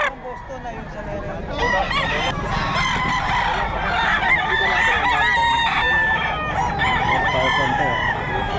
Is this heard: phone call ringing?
no